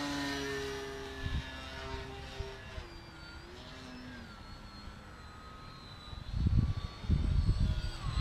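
A fast airplane flying at full speed, its engine a droning whine that rises and falls in pitch, with heavy bursts of rumbling wind buffeting toward the end.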